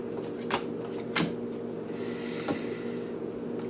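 Playing cards being shuffled, quiet riffling bursts at close range repeating three or four times at irregular intervals over a low steady background hum.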